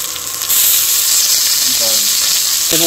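Chopped garlic and onion frying in hot oil in a pan, a loud continuous sizzle and hiss close by, with a few faint clinks near the end.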